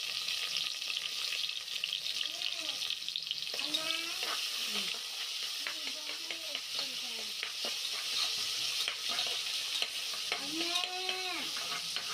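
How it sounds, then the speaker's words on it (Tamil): Onions frying in a pan for veg pulao, a soft continuous sizzle with intermittent stirring scrapes, close and fairly quiet, with brief voice sounds in the background. "வெங்காயம் போட்டு நல்லா ஃப்ரை பண்ணணும்."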